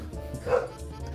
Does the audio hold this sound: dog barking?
yes